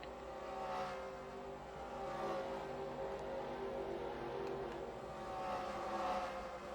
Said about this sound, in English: So you can see more cars flying across the start-finish line.